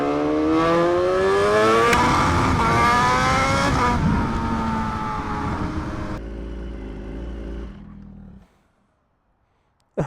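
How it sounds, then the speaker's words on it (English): A BMW HP4 Race motorcycle with a full exhaust revs hard and close, its loud rising scream holding for several seconds before dropping to a rough idle and cutting off into silence. "I do not want to risk going by the cops on an HP4 race with it being this loud"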